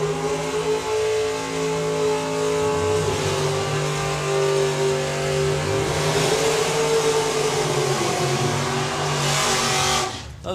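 Supercharged Outlaws class drag racing car at VW Breakout 2021 accelerating down the strip, a loud continuous engine roar rising in pitch with gear changes, close and strong with no talk.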